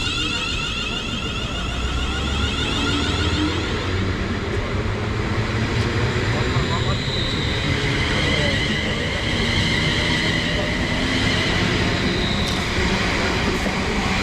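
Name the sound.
passenger train departing station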